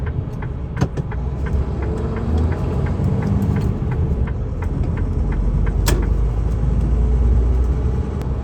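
A heavy truck pulls away from a Kaufland store delivery stop, its engine rumbling steadily at close range with a broadband drone and repeated faint clicks throughout. No one speaks.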